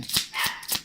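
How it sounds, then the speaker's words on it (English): A dog barks three times in a quick, evenly spaced series, sharp and close, barking at a person it treats as an intruder indoors. "he's barking at him like he's an intruder"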